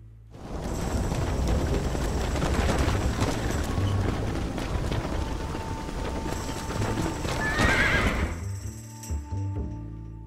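Horses whinnying and hooves clattering in the Red Dead Redemption game, a loud, busy mass of neighing and galloping that fills the scene before cutting off near the end.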